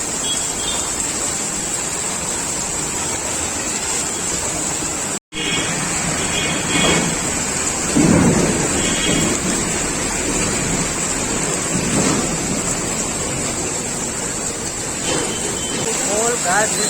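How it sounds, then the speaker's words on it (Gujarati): Steady, dense hiss of heavy rain pouring throughout in Surat, with people talking over it; no distinct thunderclap stands out. "જળ બંબાકાર વરસાદ આવ્યો છે અત્યારે સુરતમાં હજી વીજળી ગાજે છે"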